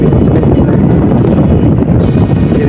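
Strong wind buffets the microphone at Manila Bay, a steady loud roar filling the whole clip with no clear voices.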